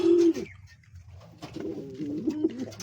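Fancy pigeons cooing close by, a loud low coo opening the clip, then a softer stretch of murmuring calls rising into repeated cooing from the flock.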